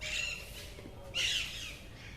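Parrots squawk in an ecological park. Harsh, raspy calls come close and loud, with one strong burst in the middle, over a steady outdoor background of other birds.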